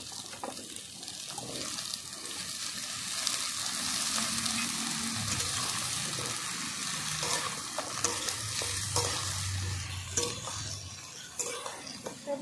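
Cut eggplant, pumpkin and potato go into a pan of fried chopped onion and sizzle steadily as they are sautéed, with intermittent stirring clatter and some brief watery sounds; no voices.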